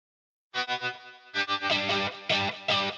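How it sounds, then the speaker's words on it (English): Crunchy, moderately distorted electric guitars strum a few choppy chords after a brief silence, then ring out with fuller sustained strums. "Next up we got the semi-distorted guitars."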